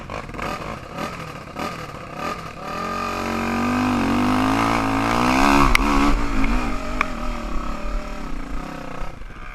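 A Raptor 250 ATV ridden by a young boy climbs a hill, its engine revving up steadily and loudly with rising, wavering pitch and a buzzing, rattly tone over several seconds.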